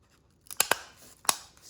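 Scissors snipping yellow craft material for a homemade fishing net: three crisp close cuts, two in quick succession and a third a half-second later, in a quiet room.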